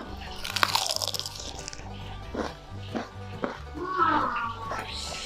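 Crisp, close crunching of celery stalks being bitten and chewed in bursts, with someone speaking between and over the bites.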